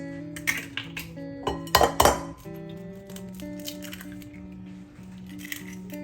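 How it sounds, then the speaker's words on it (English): Eggs being whisked in a large bowl, giving quick scraping clinks of utensil against the bowl in short bursts over soft steady background music. "in a large bowl, you whisk your eggs"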